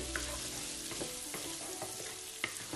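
Onion stir-frying in a hot wok with garlic, a steady close sizzle broken by scattered clicks and scrapes of the spatula, no voices.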